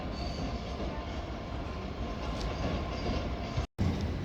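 Class 375 electric units 375812 and 375821 pull out of London Victoria station with a sustained, close rumble of wheels on rail, faint squeal and clatter, and a brief dropout near the end.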